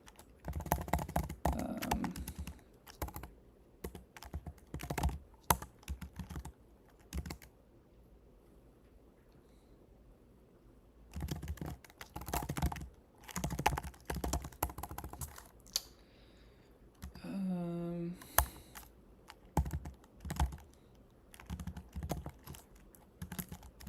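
Rapid bursts of typing on a computer keyboard during a coding session, with several dense stretches of clicking separated by quiet pauses; close and moderately loud, with a brief tonal sound near the end.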